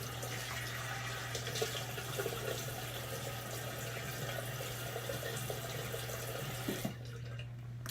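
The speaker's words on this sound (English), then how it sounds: "So I'm going to warm up and wet the face." Tap water runs steadily from a faucet into a sink as a face is wetted and warmed before a shave with a Merkur slant razor, a continuous close hiss that cuts off near the end.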